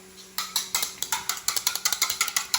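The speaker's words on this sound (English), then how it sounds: "I am whisking 1 egg." One egg whisked by hand for an egg wash on Italian Easter braided bread, a quick steady run of sharp rhythmic clicks and taps against the bowl, close and fairly loud, with no talking.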